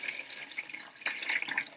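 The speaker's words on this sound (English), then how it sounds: "Pour boiling water or really hot tap water in" Boiling or very hot tap water trickling and splashing onto torn strips of newspaper in a container, a faint, close, uneven pour with small drips and no talking.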